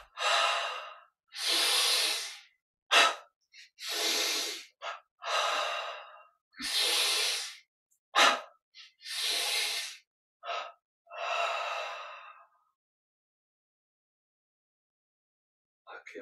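Repeated deep breaths in and out during a guided yoga and meditation breathing exercise, loud and close, some double inhales and exhales, ending in quiet.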